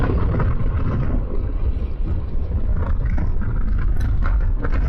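A Piaggio MP3 530 scooter engine drones steadily as the bike gathers speed on cruise control, a continuous loud rumble mixed with wind buffeting over the whole stretch.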